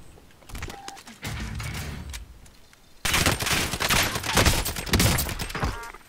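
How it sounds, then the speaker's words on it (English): Gunfire in the video game Call of Duty Warzone on Rebirth Island, with scattered shots early on and then a dense, loud burst of rapid automatic fire that keeps going through the second half. "there's two on the roof who's shooting each other"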